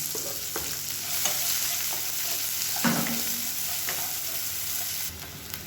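Chopped onion frying with spices in a pan for a potato gravy, a steady close sizzle with a few scrapes of stirring and light clinks throughout, no talking.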